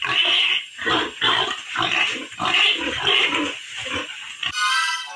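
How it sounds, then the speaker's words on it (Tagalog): A pig squeals loudly in a series of repeated harsh cries with brief pauses between them. Near and prominent, with no talk over it. "piyait ang baboy mga igala"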